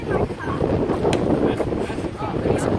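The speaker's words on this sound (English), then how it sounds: "It's so windy." Steady wind roars and buffets the microphone outdoors at a billy cart race, a constant loud rush with occasional gusts and faint background voices.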